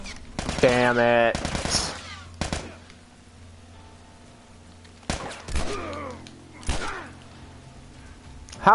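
Video game gunfire arrives in loud rapid bursts: a long automatic volley at the start, then scattered single shots and short bursts later, separated by quieter stretches of low in-game hum.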